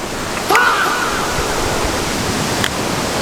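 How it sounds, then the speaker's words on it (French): The Cascade du Pas de l'Ours waterfall in the Pyrenees roars as a loud, steady broadband rush of falling water, close and continuous with no voices. "Nous voilà à la cascade."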